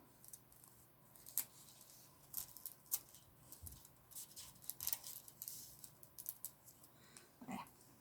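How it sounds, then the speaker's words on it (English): Scissors snip away excess card at a papercraft table: a series of quiet, crisp cuts and small paper rustles in an irregular rhythm, close up, with no talking. "need some scissors for this"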